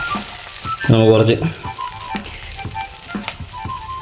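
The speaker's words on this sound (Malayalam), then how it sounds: "നമ്മുടെ മീൻമുട്ടയൊക്കെ നല്ലപോലെ ഫ്രൈ ആയിട്ട് വരുന്നുണ്ട്" Fish roe frying in a pan with black pepper, a soft steady sizzle running under a voice speaking in Malayalam.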